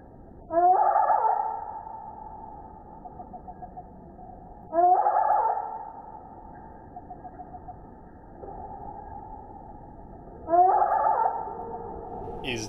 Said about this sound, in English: To make any sense of how the birds fought, Rico had to slow the tape way down